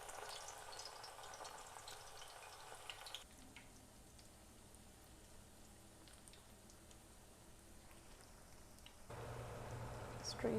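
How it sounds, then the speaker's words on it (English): Raw green papaya patties frying in hot oil in a cast iron pan, a quiet, steady sizzle that drops lower in the middle and swells louder again near the end, close and soft. "So we'll start putting one by one the patty so that we can fry them."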